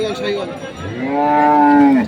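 A native beef bull at a cattle market lets out one long, loud, close moo that rises and holds before trailing off, with faint crowd murmur behind.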